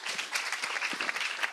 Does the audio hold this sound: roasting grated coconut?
no